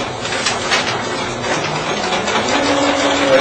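A sewing machine stitching along the edge of a fabric banner in gray thread, running as a continuous close whirring drone with no pauses.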